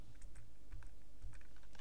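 Rapid computer keyboard typing with several distinct key presses, close and fairly quiet, sounding alone without talk.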